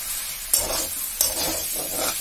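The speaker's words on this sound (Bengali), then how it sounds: "পাটশাকটা ভাজা হচ্ছে" Jute leaves frying in a pan with chana dal give a steady close sizzle, broken by two sharp clacks of a stirring utensil against the pan; nobody speaks.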